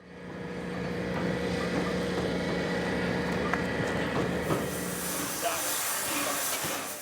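Union Pacific Big Boy 4014 steam locomotive during evening servicing, a loud sustained hiss of steam with a low rumble and scattered metallic clanks, with voices faintly audible underneath.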